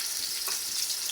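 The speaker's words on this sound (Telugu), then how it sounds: "గిన్నె పెట్టుకొని 2 స్పూన్లు ఆయిల్ వేసుకొని ఉల్లిపాయలు అయితే బ్రౌన్ కలర్ వచ్చేంత వరకు అయితే వేయించుకోవాలి" Onions frying in two spoons of oil in a pot for egg biryani, a steady close sizzle with bright hissing and a brief stirring scrape, no voices.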